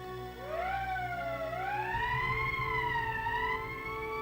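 An emergency siren in the Valkyria Chronicles video game wails with a rising, wavering pitch that starts after a moment of low hum, joined by a deeper rumbling drone partway through and sounding steadily to the end.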